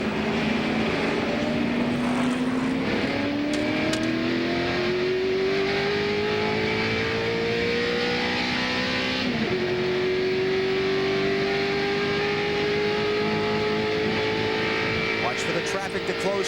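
NASCAR Winston Cup stock cars race at Daytona in the 2001 Pepsi 400, their engines a loud, continuous droning whine that rises slowly in pitch as the cars go past, with race commentators talking over it.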